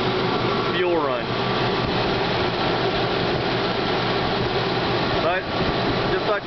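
A hydrogen-converted engine runs steadily close by, a continuous mechanical drone with fan-like hiss throughout, and a brief whistling tone sweeps past near the start and again near the end.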